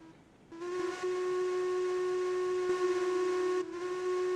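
A steam locomotive's whistle in the railroad game Railroads Online blows one long, loud, steady tone after a short quiet start, with a brief dip near the end and no talking.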